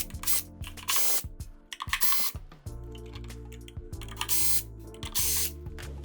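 Screws being removed from a Sony ULT Tower10 speaker during a teardown, with a power screwdriver whirring in repeated bursts between short pauses and a few clicks and clatters of parts, close and loud, no talking.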